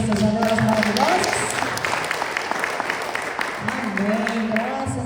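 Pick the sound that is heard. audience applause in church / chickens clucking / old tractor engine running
audience applause in church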